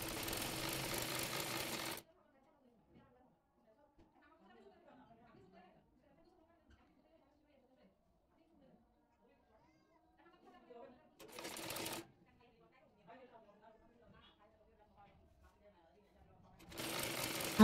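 A sewing machine stitching the body of a blouse runs in three short, loud bursts near the start, middle and end, with quiet talking in the pauses.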